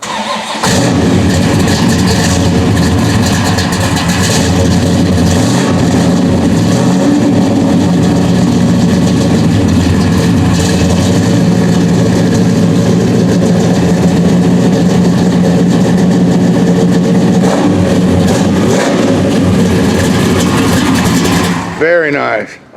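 A 1972 Pontiac LeMans V8 running steadily at idle, a loud, continuous rumble close by that carries on for over twenty seconds, with occasional voices over it.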